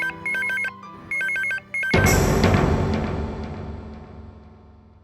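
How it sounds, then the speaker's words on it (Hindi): A mobile phone rings with a repeating electronic tone in short, even bursts, then a loud, sudden swell of sound takes over and slowly fades out. No one speaks. "राज के मोबाइल पर फोन लगाते हैं।"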